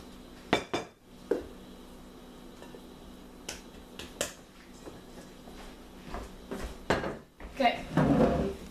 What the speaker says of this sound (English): I'm gonna get my other bowl.